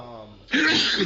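A person sneezes once, close and sharp, a sudden burst of breath after a brief moment of quieter vocal sound.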